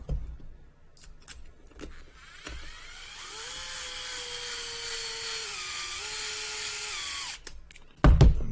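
A power driver sets long screws into a PR Racing Type-R EVO RC buggy kit, starting with a few short clicks and bursts, then whining steadily for about four seconds, ending in a sharp clatter.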